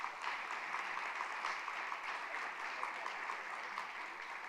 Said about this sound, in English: if we could all give them a quick round of applause